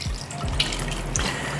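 Water pours steadily into a pot, a continuous splashing stream as liquid is added to cover a whole octopus for poaching.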